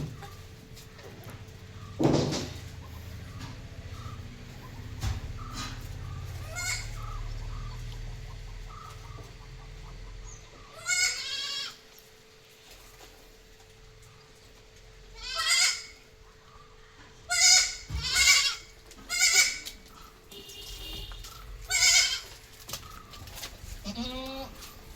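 A Malabari mother goat and her two month-old kids bleat repeatedly, loud, close calls coming in bursts of several in a row over a faint background hum, with the longest run of cries near the end.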